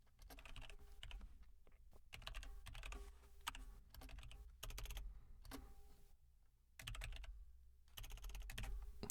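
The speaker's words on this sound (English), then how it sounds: "Having trouble typing." Bursts of computer keyboard typing in clicky, uneven clusters separated by short pauses, close and fairly quiet, with no talking.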